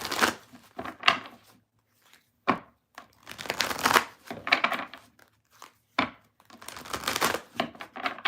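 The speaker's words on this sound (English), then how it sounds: "we're going to go ahead and shuffle, and then we'll head on to card number 3." Tarot cards being shuffled in several separate bursts of crisp riffling and flapping, close and fairly loud, with short pauses between the bursts.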